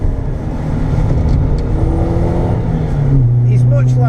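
Ford SportKa engine on the Three Sisters race track, a steady close-up drone that climbs in pitch near the end as the power comes back on, with a voice talking over it.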